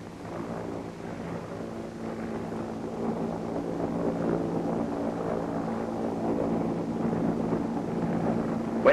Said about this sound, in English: When the helicopter is seen approaching in the distance, the coxswain steadies the lifeboat on course